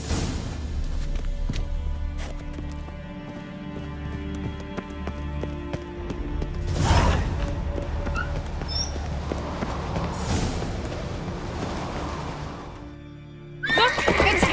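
A horse whinnies and its hooves move in The Witcher 3 during a chase, with loud game ambience and music underneath and a sharp swell near the end.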